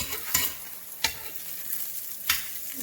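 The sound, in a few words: pan frying a birria taco tortilla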